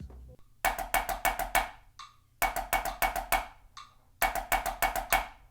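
A drum kit plays three short repeated phrases of eighth note triplets with accents on every other note, forming quarter note triplets; crisp close hits separated by brief pauses, with no speech.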